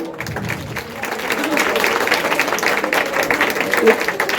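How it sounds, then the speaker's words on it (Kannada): An audience claps at a children's talent award ceremony held at a Panchamukhi Anjaneya temple, the applause swelling into a steady crowd of hands, with voices talking through it. "ಜೋರಾದ ಚಪ್ಪಾಳೆ ಬರಬೇಕು"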